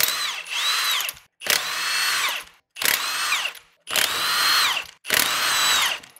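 An impact power tool works the wheels off an S14 Nissan 240SX at the rear axle, firing five loud, close bursts of about a second each, separated by short gaps.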